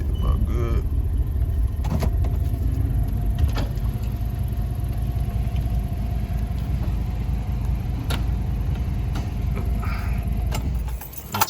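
A truck engine idles steadily with a worn serpentine belt, giving a continuous loud low rumble with faint rattling and ticks, and the sound drops away near the end.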